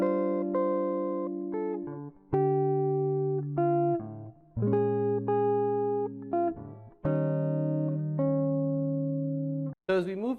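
Fingerstyle guitar plays measures 9 and 10 of a song, a slow sequence of clear, sustained jazz chords separated by short pauses, close and unaccompanied.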